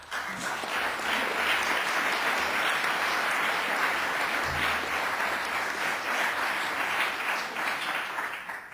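Sustained audience applause fills the hall at a 2015 Law Day celebration, a dense, even wash of clapping that stays loud throughout with no talk over it.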